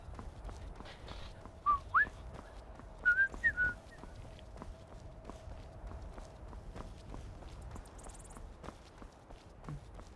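A person whistles a brief tune of about five short notes, faint and thin, over steady footsteps walking through a quiet outdoor scene.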